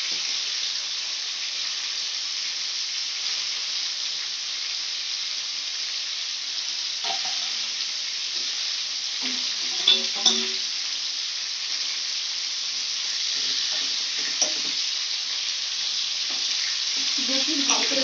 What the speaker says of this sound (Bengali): নুন হলুদ দিয়ে ভেজে নিচ্ছি